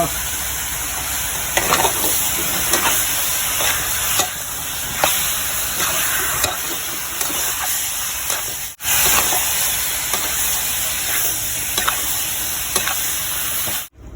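Chicken stir-fries in a hot pan, producing a continuous loud sizzling hiss punctuated by regular scraping strokes of the spatula for over ten seconds, with a brief cut partway through.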